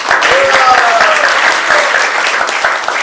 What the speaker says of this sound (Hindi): अरे आप तालियां बजा के इनका स्वागत करो सारे।